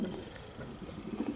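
A racing pigeon coos in soft, low, throaty pulses, close by and fairly quiet, repeating through the short moment with faint background noise and no talking.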